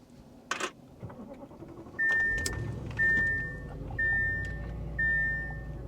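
A Mercedes-Benz S550 of the W222 chassis idles at a dealer auction, its low, steady engine hum running beneath a faint electronic chime that beeps four times at an even pace.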